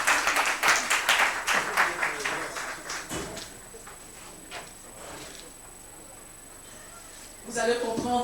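An audience at a performing arts festival panel applauds a guest with loud, close clapping that tapers off after about three seconds, leaving quiet room noise before a voice returns at the end.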